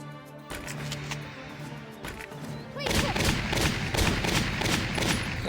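Gunfire from a gun fitted with a grenade launcher in the video game Valkyria Chronicles Remastered, a run of sharp shots that thickens into a dense, louder volley in the second half.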